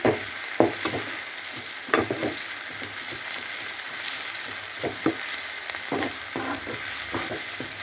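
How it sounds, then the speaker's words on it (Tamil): Tomato masala for dalcha sautéing in a pan, a steady close sizzle broken by repeated scraping stirs of a spoon against the pan, with no talking. "இது நல்லா வதங்கட்டும் பாருங்கள்"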